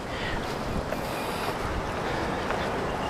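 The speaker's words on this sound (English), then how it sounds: "it is rather windy" Strong wind blows along an exposed stretch of an old stone wall in Taiwan built in 1204, a constant loud rushing roar with microphone buffeting and no voices.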